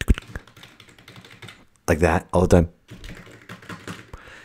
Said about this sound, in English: I'm typing away.